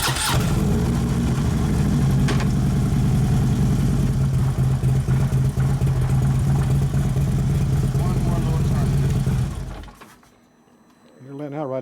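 A Harley-Davidson Road Glide twin cam engine with a six-speed transmission runs loud and steady at close range for about ten seconds. Then it drops away abruptly, leaving a brief quiet stretch.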